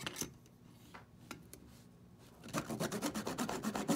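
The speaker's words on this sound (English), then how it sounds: "So the first thing I need to do is, again, cut off the proper starting miter in the corner right here." A small hand saw cuts a miter through miniature wooden picture frame moulding, a few scattered rasping strokes at first, then a steady run of quick close back-and-forth strokes.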